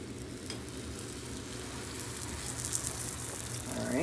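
Food sizzling and frying in a pan over medium heat in a home kitchen, a faint, steady crackle that grows slightly louder toward the end, with no voices.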